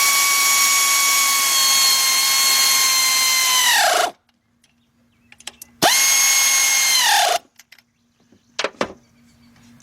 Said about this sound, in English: let's tighten those bolts up